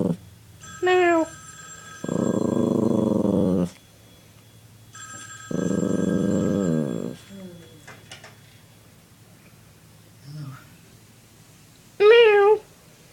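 A puppy makes high, rising cat-like whines in short bursts, separated by pauses and by a person's voice, with a steady hum and a couple of loud broadband thumps underneath.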